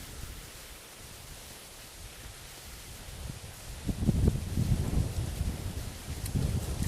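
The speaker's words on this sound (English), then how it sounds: "A little more wind than I thought there was." Wind gusts across an open hilltop, a soft broadband rush that swells louder and rougher midway, then keeps buffeting the microphone.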